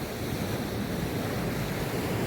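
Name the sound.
sea waves at the shore while fishing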